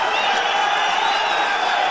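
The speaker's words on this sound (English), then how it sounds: "The crowd going crazy here for this amazing bout between these two men." An arena crowd at an MMA fight in Moscow roaring and cheering without pause, loud and sustained, with whoops rising above a steady wall of voices.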